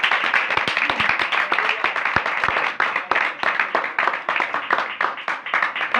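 An audience at a religious gathering breaks into loud, dense applause, many hands clapping in rapid uneven bursts continuously for several seconds.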